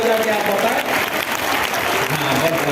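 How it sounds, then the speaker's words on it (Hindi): A crowd applauds at a stand-up comedy show at the Barkot fair, dense and loud continuous clapping, with a voice audible over it. "उनके सम्मान में भी एक बार दोनों हाथ ऊपर उठा करके ताली बजा के आप बताएं"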